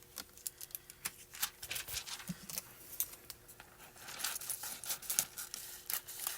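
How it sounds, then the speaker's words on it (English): A larger sheet of foil is trimmed down for a foiling craft project, giving a run of crisp crinkling, snipping and tearing sounds at close range, alone without talk. "I have a bigger piece of foil here. We're going to cut that down."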